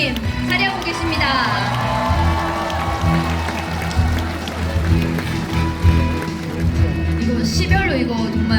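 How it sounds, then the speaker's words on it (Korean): A large crowd at a book launch event in an indoor hall cheers and shouts loudly and continuously, with an amplified voice talking over the din throughout. "정말 환호성이 장난이 아닌데요"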